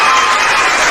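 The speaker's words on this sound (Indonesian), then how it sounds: "Tepuk tangannya dong." Audience at a live debate claps in a short, loud, dense burst of applause filling the whole moment.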